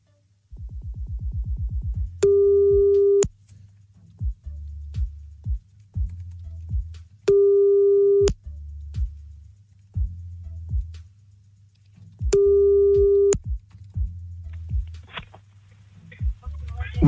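A telephone ringback tone sounds while a radio host phones a listener. Three steady, evenly spaced beeps about a second long are heard, with quiet clicks and muffled sounds in the gaps.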